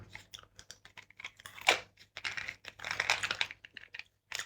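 Someone chewing gum close to the mic, wet smacking and crunchy clicks in an irregular rapid rhythm, fairly quiet with short pauses between bursts.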